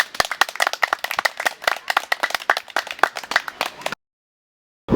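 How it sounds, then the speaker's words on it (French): An outdoor group claps together at close range, a dense run of sharp hand claps lasting about four seconds before stopping abruptly into silence. "Et on peut tous applaudir pour être tous vivants ici présents."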